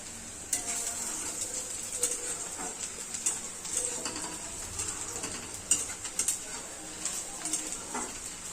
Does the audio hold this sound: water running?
no